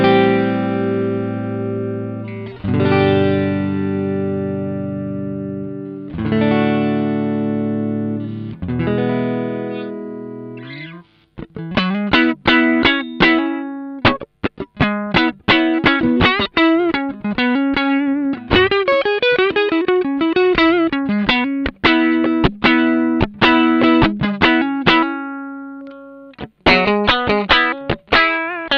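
An electric guitar with three stock tremolo springs and single-coil pickups plays on the neck pickup: ringing clean chords first, then a punchy, choppy distorted riff, loud and alone.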